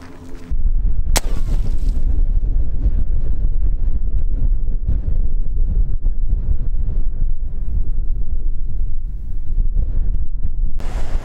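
Strong wind blows at an outdoor rifle shooting range, buffeting the microphone with a constant loud low rumble and roar, preceded by a brief sharp crack near the start.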